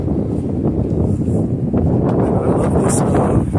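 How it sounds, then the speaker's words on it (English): Strong, chilly outdoor wind buffets and roars across the microphone in continuous loud gusts, close and rough, with no clear talking over it. "You can hear that wind."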